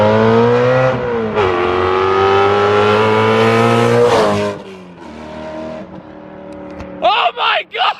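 A straight-piped BMW M3 with the mid-pipe removed revs loudly and close, its harsh exhaust note climbing and holding, then dropping off before a few short sharp blips; a voice may be mixed in.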